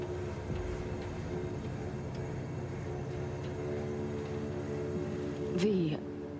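A train engine rumbles steadily in the game Cyberpunk 2077, a low continuous drone with faint mechanical hum, rising briefly near the end with a swooping tonal whine before settling.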